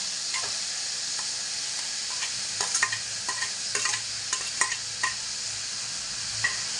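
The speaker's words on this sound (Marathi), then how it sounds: "आपण कांद्यामध्ये मिक्स करून घेऊया टॅमॅटोला पण थोडा लाल व्हायला द्यायचं" Tomatoes are stirred into onions frying in a pan for a Malvani-style prawn chutney. A constant hiss of sizzling runs under irregular scraping clicks of the spoon against the pan.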